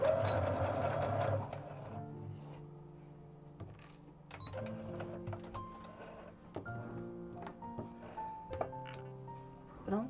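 A sewing machine stitches the sleeve onto a rag doll's dress, starting with a loud steady run of needle strokes, then moving in short stop-start bursts with clicks and thunks between them, close up and with no talk.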